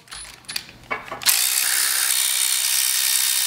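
A ratchet works loose the pickup tube bolts on a supercharged 6.0 LQ9 LS engine being torn down. A few short clicking bursts come first, then a steady, loud, close whir of continuous ratcheting.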